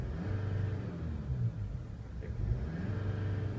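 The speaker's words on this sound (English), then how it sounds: "Thinking I'm revving it from cold." A 2015 Jeep Wrangler Overland's 2.8 CRD turbo diesel engine revs up and settles several times, a close, deep, smooth rumble rising and falling in pitch with a steady idle underneath.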